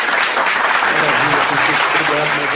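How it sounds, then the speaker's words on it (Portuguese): A crowd claps steadily, a dense, even wash of applause that holds at full volume for a couple of seconds. "Uma salva de palmas para o Francisco!"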